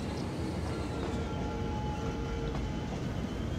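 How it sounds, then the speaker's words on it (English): Steady in-game train rumble in Cities: Skylines with a constant broadband roar and faint rail clatter, continuous and fairly close throughout. "as we enjoy the train ride"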